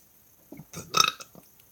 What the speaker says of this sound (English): Just kind of let it burp out a little bit.